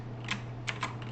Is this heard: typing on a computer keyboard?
yes